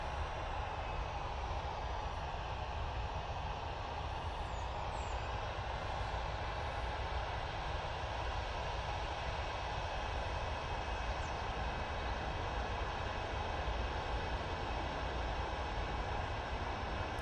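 Airliner engines at Manchester Airport give a steady, broad jet roar that rises slowly and carries a faint high whine, with no voices over it.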